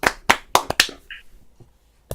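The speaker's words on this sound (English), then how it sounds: "Put your little hands together for Karen McGuire." Five sharp hand claps in quick, slightly uneven succession, followed by a pause and one final clap, close and crisp with no talking.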